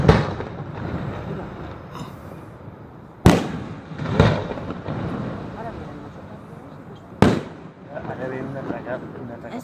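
Fireworks explode in Corbera, with three sharp, loud bangs spread across the stretch over a steady rumble of crowd chatter and people talking nearby.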